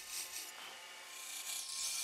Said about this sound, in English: The square cutter on the Easy Rougher makes it simple to add a nice little bevel to the base.